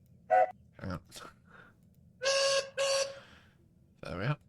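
A Proteus model steam locomotive sounds a whistle in two clear, sustained toots in the middle, set between short bursts of someone talking in a quiet room.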